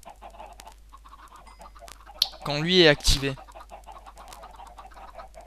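A video game chicken squawks loudly and briefly in the middle, while a person talks quietly before and after it.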